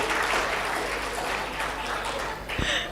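Audience at a magic show applauds, a dense, steady wash of clapping from a crowd that lasts about three seconds, with a brief thump near the end.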